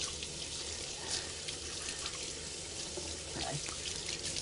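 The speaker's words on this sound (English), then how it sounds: "I'm going to rinse off this doughy stuff on my hands real quick." Hands with pizza dough on them rinsed under a running tap, a faint, steady rush of water with soft splashing and no clear speech.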